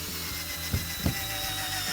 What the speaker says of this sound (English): Drive in the other screw.